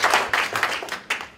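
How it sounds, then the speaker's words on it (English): A brief burst of audience applause at a data festival gathering, a handful of close, crisp claps trailing off within a second or two. "she deserves a bit of a big round of applause"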